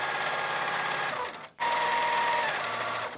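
A sewing machine stitches quilt fabric with a one-inch seam allowance, a close, steady whirring hum that stops for a brief instant midway, then resumes at full pace.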